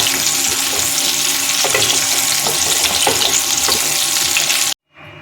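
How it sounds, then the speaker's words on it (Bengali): Potato and papaya pieces frying in oil, a loud, steady close sizzle with crackling bursts and light stirring that stops abruptly near the end, no talking. "এই আলু আর পেঁপেগুলো একটু ভালো করে ভেজে নেব।"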